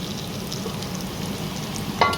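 Tomato paste sauté sizzles and crackles steadily in a hot pan, close up, with a brief scrape of a utensil near the end.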